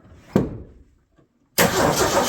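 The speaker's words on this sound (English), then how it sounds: "All right, crank it over a couple more." A 1984 Ford F-250 truck engine cranking over, a short burst of starter noise followed after a pause by a loud, steady broadband roar, close by with no talk.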